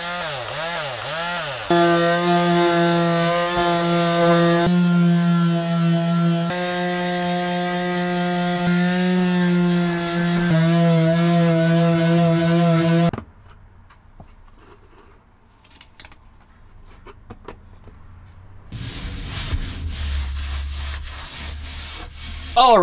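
Power sanding of wood on a vintage truck camper under renovation, a loud droning whine with strong tonal pitch that shifts as the tool works, then cuts out to quieter scraping and handling noises before resuming.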